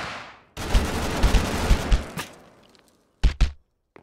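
Gunfire from the video game Totally Accurate Battlegrounds: a dense, loud burst of rapid shots lasting about a second and a half, then two sharp separate shots after a short pause.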